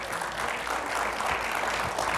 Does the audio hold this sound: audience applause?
yes